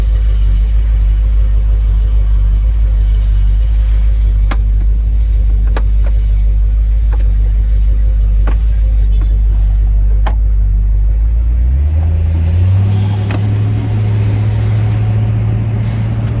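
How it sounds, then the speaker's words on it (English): A deep, steady V8 exhaust burble from a 1972 Oldsmobile 442 with a 455 engine and Flowmaster mufflers, rumbling loudly at idle, then dropping slightly in pitch as the engine settles. "Sounds good with the Flowmasters."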